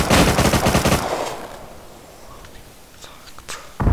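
Rapid bursts of AK rifle fire in a video game, loud and close at first, then scattered single shots and a final burst, with a voice speaking low underneath.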